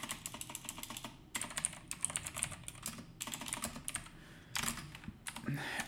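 Someone types on a computer keyboard while entering input for a Python word-counter program: fairly quiet, steady clicking in bursts with brief pauses, no voices.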